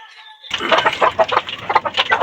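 A broody hen clucks close by in a quick, uneven run of throaty clucks and grumbles, loud and alone after a brief faint tone at the start.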